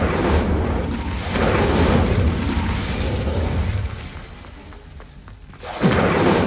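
A fire spell cast in the Hogwarts Legacy video game, heard as a sustained whooshing, roaring burst with booming low rumble that dips midway, then a fresh loud burst flares up near the end.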